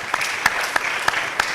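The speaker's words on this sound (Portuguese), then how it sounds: "Um aplauso, senhor." Brief, moderate clapping from an audience at a pre-university information evening, with a few sharper, louder claps standing out at regular moments over the softer patter.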